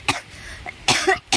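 A child coughs in a few short, sharp bursts with gaps between them, close and fairly loud, with one quieter cough in the middle.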